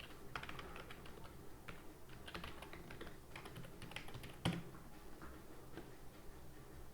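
Quiet, close clicking of fingers typing on a computer keyboard, a rapid irregular patter of keystrokes with one sharper tap near the middle.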